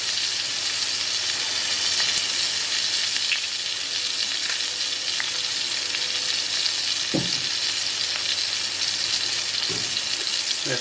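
Onion frying in butter and olive oil, a loud continuous sizzle with occasional knocks and scrapes as it is stirred, close up and without voices.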